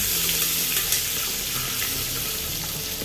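Ginger garlic paste sizzles steadily in hot sunflower oil in a pan for a Malvani chicken curry, a loud continuous hiss and crackle throughout.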